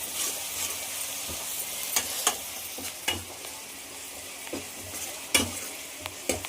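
Ginger garlic paste fried in a pan at a campsite, a continuous close sizzle broken by irregular scraping stirs and clinks of a spatula, with no voices.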